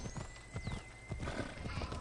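Horse in Assassin's Creed Odyssey, rhythmic clip-clop hoofbeats with a whinny in the game's soundscape, steady and fairly close, faint overall.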